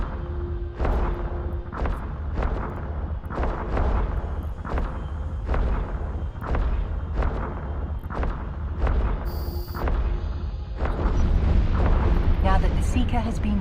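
Spaceship weapons in the Eve Online video game firing at an enemy ship: a steady run of heavy booming shots at roughly one-second intervals over a constant low rumble, with a voice speaking over the barrage.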